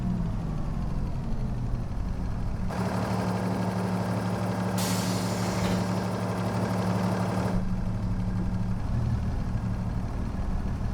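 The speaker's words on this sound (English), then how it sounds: "Yeah, there's definitely a clank." A steady engine running with a low, uneven knocking rumble, loud and continuous, with a broader mechanical rattle surging in the middle stretch.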